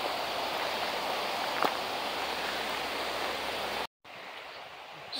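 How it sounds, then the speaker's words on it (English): A big waterfall on the Gatlinburg Trail in the Smoky Mountains rushes in the distance as a steady, even broadband roar, faint and unbroken apart from a brief dropout. "It's a big waterfall."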